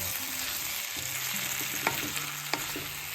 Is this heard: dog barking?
no